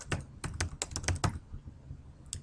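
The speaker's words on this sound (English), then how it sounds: "typing with my keyboard each of the names of the tacks" Someone types on a computer keyboard, giving bursts of sharp clicking keystrokes, close and fairly quiet, then a pause and a final tap.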